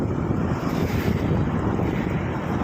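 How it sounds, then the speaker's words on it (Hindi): Cool wind blowing steadily through hilly countryside at midday, a continuous broadband rush with gusty rumble buffeting the microphone, no voices. "जहाँ ठंडी ठंडी हवा चल रही है"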